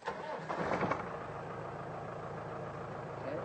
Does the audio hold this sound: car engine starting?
yes